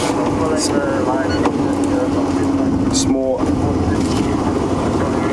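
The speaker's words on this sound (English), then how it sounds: "I'm just going to let the engine run a little bit" Safari vehicle engine idling on an African sunset drive, a steady low drone that runs continuously and fairly loud, with a brief spoken word and scattered outdoor sounds over it.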